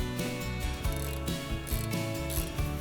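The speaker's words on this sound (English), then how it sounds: "we can get our little ratchet spanner and we can tighten those on" A small ratchet spanner tightening bolts on a Cobra 20B Fortis cylinder mower, with fast repeated clicking of the pawl in even bursts, close and clear against a faint background and no talk.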